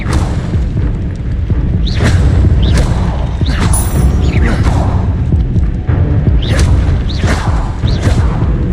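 An Incendio fire spell is cast again and again in the game Hogwarts Legacy, each one a loud booming whoosh and crash, with several blasts in a row over a heavy rumbling backdrop.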